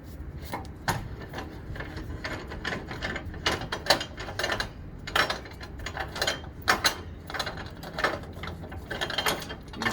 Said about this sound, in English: Take the jockey wheel off, we just undo it here.